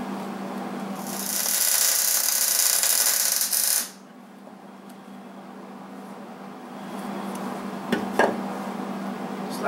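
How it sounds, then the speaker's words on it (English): Welding on tubes during a CV swap on a '67 Ford F100 produces a loud, continuous harsh hiss lasting about three seconds, then stops, followed by quieter shop sounds and a couple of sharp clicks. "So now I'm just going to weld."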